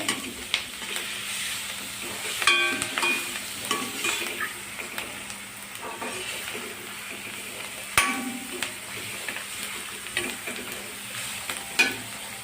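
Chopped radish sautés in a pan with a soft steady sizzle, interrupted by intermittent scraping and clattering strokes of a spoon stirring, with a few sharper knocks against the pan.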